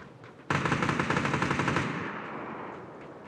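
Loud, close automatic gunfire in a video game, a rapid burst of machine-gun shots that starts abruptly and then rings out, tailing off over a couple of seconds.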